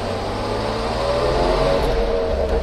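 A 1967 Mercedes SL 280 Pagode engine pulls steadily in first gear, a loud, close, continuous mid-pitched drone rising smoothly with road and wind noise and no talking.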